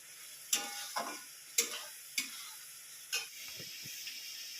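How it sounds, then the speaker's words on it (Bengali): A spice paste for meat curry being stirred in a pan, with a soft sizzle and several sharp scraping strokes of the spoon at uneven intervals. No one speaks. "মাংসটা বসিয়ে দিলাম মানে মশলাটা কষাচ্ছি"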